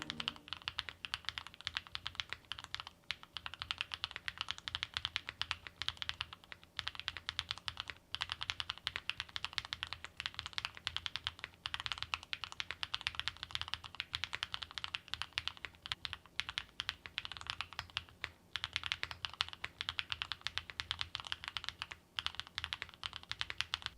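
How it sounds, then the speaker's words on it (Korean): Continuous typing on a HIEXA V80 custom mechanical keyboard fitted with Royal switches: dense, close clacking keystrokes in quick irregular bursts with short pauses, no voices. "이제 바로 연결해서 타이핑 사운드 들어보도록 하겠습니다"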